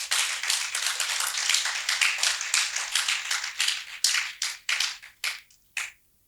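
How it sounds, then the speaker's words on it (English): An audience at a health workshop applauds in a brisk burst of clapping that thins into a few scattered, separate claps before stopping abruptly. "I think that deserves another round of applause."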